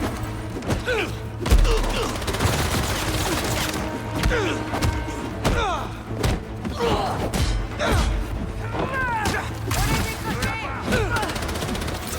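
Gunfire and thuds in the Spider-Man 2 video game, dense and continuous over a busy mix of game sound effects, with several sharp bursts standing out near and loud throughout.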